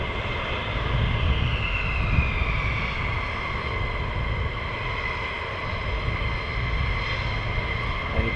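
Military jets taxi at RAF Lakenheath with the 494th squadron, a steady broadband engine roar and whine holding loud and constant throughout, with no voices.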